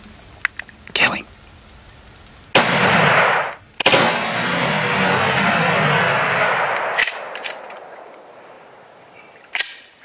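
Gunshots fired at coyotes outdoors: a couple of sharp, loud cracks followed by long noisy bursts and echoing blasts, with quieter clicks between them and low voices heard in places.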